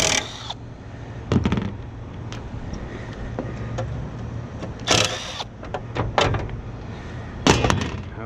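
A rooftop HVAC unit's metal access door is handled and shifted aside, giving a few sharp clanks and thumps spaced irregularly over a low steady hum, fairly close.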